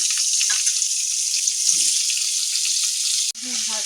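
Washed potato and pointed gourd pieces drop into hot oil with whole spices, giving a steady loud sizzle and crackle throughout, briefly cut off near the end before resuming.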